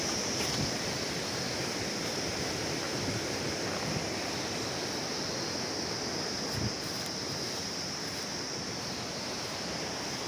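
The village stream Pakhar Khola rushes past with a constant, loud roar of flowing water that fills the whole stretch and has no talk over it.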